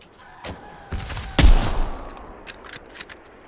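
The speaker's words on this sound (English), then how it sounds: "But I can hear the gunshots." Gunfire in the WWII shooter Hell Let Loose, a few scattered distant shots, then one loud close crack with a rumbling tail, followed by more faint sporadic shots.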